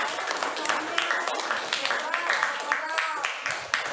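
A classroom of students applauds, a dense patter of many hands clapping steadily throughout, with voices mixed in underneath.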